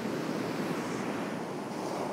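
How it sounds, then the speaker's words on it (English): Water rushes past rocks as waves break on a shore, a steady, loud, close broadband roar that continues without pause and with no voices. "just get a couple of shots again with this water rushing past these rocks"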